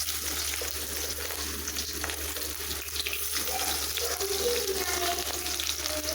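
Chopped onion drops into hot oil with cumin seeds for a besan vegetable curry, producing a continuous hissing sizzle that sounds much like running water, moderately loud and steady with no voices.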